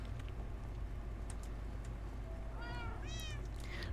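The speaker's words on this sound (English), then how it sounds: "Okay, yeah, I do hear kitties." Two clear cat meows near the end, one rising and one longer and higher, heard over a steady low background hum after a stretch of near silence.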